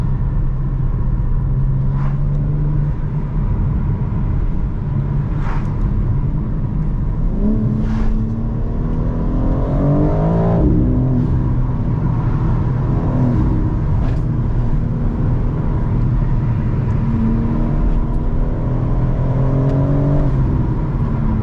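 A BMW G82 M4 accelerates along slippery back roads, its engine droning steadily and close, with revs rising and falling in waves and no voices.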